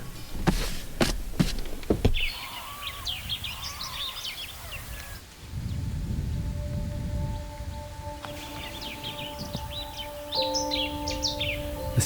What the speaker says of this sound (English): The sound of the whistling kite is ever present in the top end of the Northern Territory.